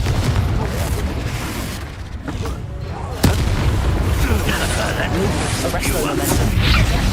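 Confringo blasting-spell explosions in the video game Hogwarts Legacy: repeated deep booms and bursts, with a sharp blast midway, all over dense game sound and a talking voice.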